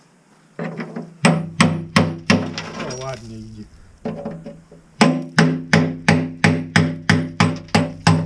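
Sharp metallic hammer strikes knocking rubble off a metal tub ring out in quick bursts, pausing briefly for a short spoken remark, then resuming in a fast, steady rhythm of clanging blows.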